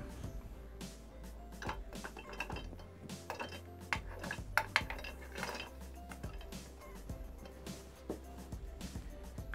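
Green beans dropped into the bottom of a Thermomix bowl, giving a steady run of small clinks and rattles against the container, moderately close with faint kitchen background throughout.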